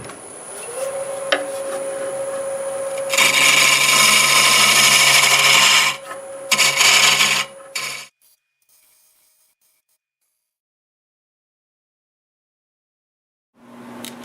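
Harsh, steady shear scraping of a carbide tool against wood spinning on a lathe, two sustained passes broken by a short pause, loud and close, then silence.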